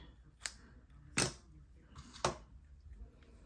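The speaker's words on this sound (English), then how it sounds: "Cut them at a diagonal so they don't fray." Scissors snip the ends of a craft ribbon on a diagonal during a stamping project, three crisp separate cuts at close range, quiet otherwise.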